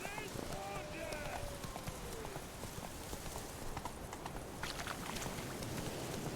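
Roach's hooves clatter in a steady galloping rhythm through The Witcher 3, continuous and mid-distance under a constant bed of ambient noise, with a voice talking over it.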